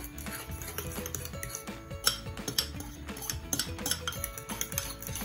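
Eggs for a Roman-style spaghetti carbonara are beaten in a bowl with a utensil, producing rapid, quiet, close clinking and tapping strokes in a continuous irregular rhythm.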